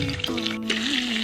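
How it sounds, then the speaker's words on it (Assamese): A chicken leg piece fries in hot oil in a wok, crackling and sizzling up close with small bursts of spatter over a steady background hum, and no one speaking. "তো মই এতিয়া লেগ পিচটো তাত ভাজিম।"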